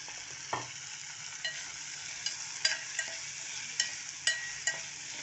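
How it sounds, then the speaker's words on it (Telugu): Bottle gourd pieces frying in a pan, a quiet steady sizzle broken by a series of spatula taps and scrapes as the pieces are stirred, with no voices. "చూడండి, అవి వేగుతున్నాయి."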